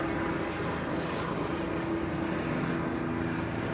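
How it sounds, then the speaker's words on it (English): Police helicopter circling overhead at a street shooting scene, a steady droning engine and rotor hum with a constant tone, moderately loud and unbroken, no talk. "The helicopter flying above, going in circles to see if they can see anyone that might be a suspect."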